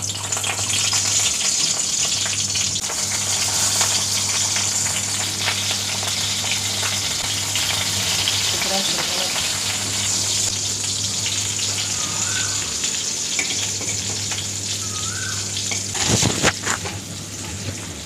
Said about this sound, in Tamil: அதோடு இப்போ நம்ம அந்த கத்திரிக்காவை பொரிக்க போகிறோம்.